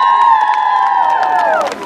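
A crowd at a Europe Day celebration in Kryvyi Rih, Ukraine, cheers with loud sustained whoops and shouts, a faint patter of clapping beneath, the voices sliding down in pitch toward the end.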